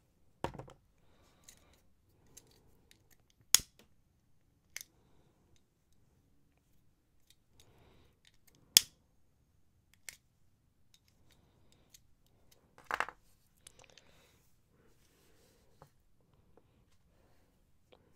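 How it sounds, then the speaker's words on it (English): Scissors snip beading wire in a few sharp, isolated clicks spread across a quiet background, with faint handling noises between the cuts. "Snip this off, and the other one as well."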